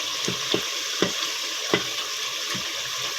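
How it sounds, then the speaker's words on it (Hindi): Tomatoes fry in ghee with onion and garlic in a pan for a potato and brinjal curry, giving a steady loud sizzle broken by several soft stirring scrapes, with no talking. "पहले से हमने कुछ प्याज लहसुन फ्राई कर लिया था घी में, तो बाद में हमने ये टमाटर डाल दिए"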